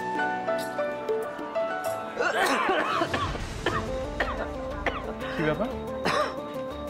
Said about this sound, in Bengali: এত কাশছো?